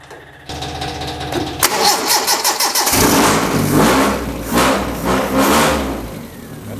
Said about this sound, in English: so now she's gonna crank over like a champ.